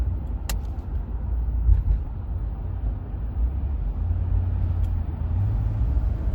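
A white 1992 Buick Roadmaster sedan with 119,000 miles cruises through slow traffic approaching the West Rocks Tunnel in Massachusetts, giving a steady low engine and road rumble from inside the cabin with a couple of faint clicks.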